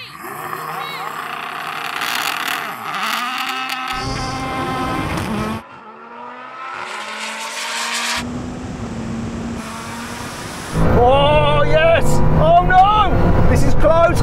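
A Mini, a Bugatti and a Lamborghini in a drag race, loud engines revving and roaring in several separate bursts with abrupt cuts between them, racing engine whine rising at close range, with voices under the noise.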